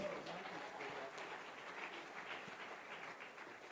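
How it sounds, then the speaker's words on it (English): A live audience claps for a pastor walking onto the stage at a sales masterclass event, a steady, dense wash of applause sustained throughout, moderately distant and filling the hall. "Please don't stop clapping."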